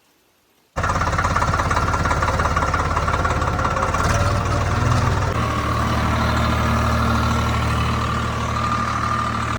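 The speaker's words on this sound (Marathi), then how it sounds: "आणि आपण आता चालू ट्रॅक्टर घेऊन घरी" A tractor engine on an onion farm starts up after a moment of near silence, then settles into a loud, steady, throbbing idle close by. Its pitch shifts slightly partway through, and no one talks.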